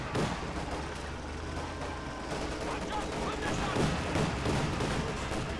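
Gunfire from a Luchs armored car strafing Soviet infantry in the World War II strategy game Company of Heroes 2, dense sustained bursts over a constant battlefield din, with loud shots clustering near the end.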